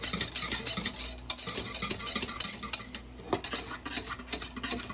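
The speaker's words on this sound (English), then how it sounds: "So just keep stirring it and turn your stove up so it can get thicker." Honey glaze stirred in a pot on the stove, a utensil scraping and clinking against the pan in irregular strokes over a soft bubbling simmer, close and fairly quiet with no talk.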